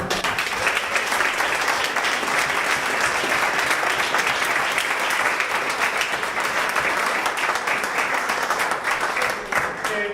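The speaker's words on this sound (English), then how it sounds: "Round of applause for these two." At a women's dinner, the audience gives a sustained round of applause for two people, loud and dense with many hands clapping steadily throughout, faint voices mixed in.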